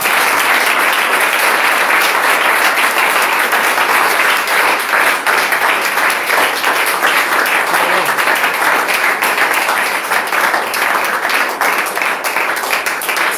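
A congregation applauding at a church gathering in Cameroon: loud, dense, sustained clapping from a large crowd, with voices mixed in beneath.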